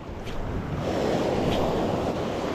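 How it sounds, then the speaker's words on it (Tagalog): Ocean waves wash against a rocky, mossy shore in a continuous broad roar, close and fairly loud, mixed with gusting wind noise on the microphone. "Uy, laki pa ng alon."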